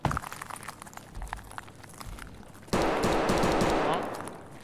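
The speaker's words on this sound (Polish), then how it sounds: "idę w kierunku strzałów" Gunfire in the video game Escape from Tarkov: scattered distant shots and footsteps at first, then a sudden loud burst of rapid automatic fire that trails off near the end.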